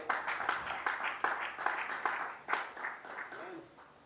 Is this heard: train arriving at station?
no